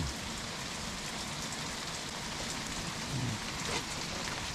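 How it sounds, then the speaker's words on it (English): Steady heavy rain pours down with dense splashing and a continuous rushing wash of water spilling from an overflowing rain gutter nearby, loud and unbroken. "Or the rain gutter. It's overflowing."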